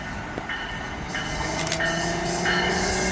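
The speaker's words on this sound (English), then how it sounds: "Here we have a multi-level with the locomotive facing Penn Station" An NJ Transit multilevel train with its locomotive facing Penn Station rolls through Metropark station on the Northeast Corridor, a steady close rumble with faint wheel squeal and a few clanks and clicks over the full length.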